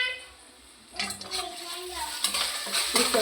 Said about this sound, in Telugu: వేడైంది నూనె. పచ్చిమిర్చిని ఆనియన్స్ వేసుకోవాలి.